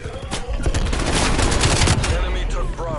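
Enemy sentry turrets in Call of Duty Cold War fire a loud, sustained burst of rapid automatic gunfire that fills the moment, dense and close, easing slightly at the end.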